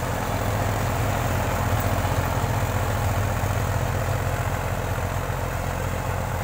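A Deutz Fahr 603 4WD tractor pulling an 8-foot Jaswant super seeder runs steadily at close range, a loud, constant low engine drone with mechanical rattle and no pauses.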